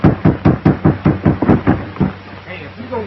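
Loud knocking on a door in a 1936 film scene, eight or so quick, heavy raps in steady rhythm up close, then fading into a muffled voice.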